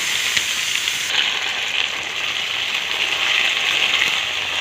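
Potatoes and peas fry in a pan with a steady, even sizzle and crackle that holds at one level throughout, close and alone without any voices.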